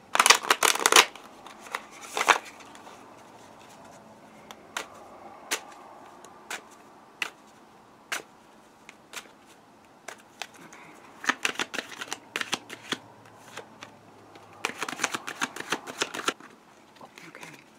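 Tarot cards are shuffled and riffled in several crisp, papery bursts, with lone card snaps and flicks between the bursts. The sound is close and dry, and a denser flurry of shuffling comes near the end.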